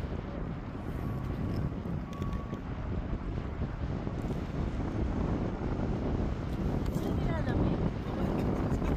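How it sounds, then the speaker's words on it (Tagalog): Strong, steady wind buffets the microphone at Grassi Lake near Canmore, a constant broadband roar lasting the whole stretch, with faint voices in the background. "Ang lakas ng hangin."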